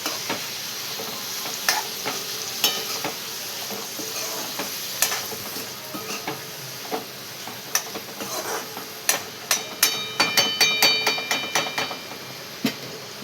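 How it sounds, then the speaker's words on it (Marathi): Prawns, potato and tomato tossed with masala in a pan, with scattered scrapes and taps of a spatula over a soft sizzle, the stirring clatter growing quicker and denser toward the end. "टमाटर, कोळंबी आणि बटाटा आणि सगळा मसाला आपण एकदम असं परतून घेणार."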